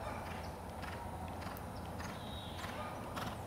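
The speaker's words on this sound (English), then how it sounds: "Keep that canter." Horse cantering in a dressage lesson, soft rhythmic hoofbeats on an arena surface over a steady, faint background, with no talk over the sound.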